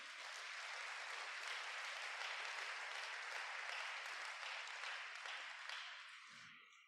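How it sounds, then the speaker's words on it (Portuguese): Congregation applause during a church service, a broad, steady wash of clapping that holds evenly and then tapers off, followed by a brief voice at the very end. "Dê uma salva de palmas para o Senhor Jesus."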